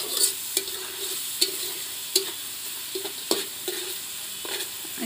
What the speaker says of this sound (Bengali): এই যে এখানে ফ্রাইড রাইসের সব কিছু ভাজা ভাজা হচ্ছে।